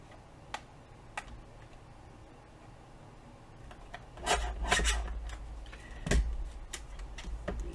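Paper booklet pages being trimmed by half an inch, heard as scattered light ticks followed by a few louder rasping cuts and scraping strokes, close by with no talking.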